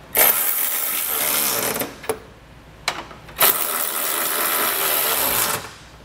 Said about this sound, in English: we'll come back with the socket and snug everything down